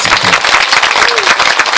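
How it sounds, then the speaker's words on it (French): A crowd at a school back-to-school event applauds loudly for the president, a dense, close, continuous roar of clapping with a brief voice faintly mixed in. "Est-ce qu'on peut encore applaudir très fort pour le président?"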